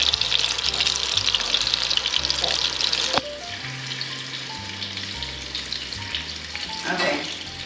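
Sausage sizzles loudly in hot bacon grease in a skillet, a steady bright crackle that drops to a quieter fry partway through as a spatula breaks it up. A voice talks faintly over it.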